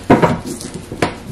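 Knife chopping capsicum and herbs on a board in a home kitchen, a few sharp, close cuts with clinks of utensils, no talk.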